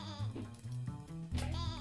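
Close sheep bleats in a quick series, wavering and nasal, three or four calls running almost back to back over a quiet background.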